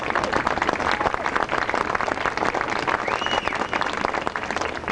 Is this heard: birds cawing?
no